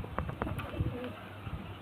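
A female pigeon gives low, soft coos close by, a short run of murmuring calls with faint background noise.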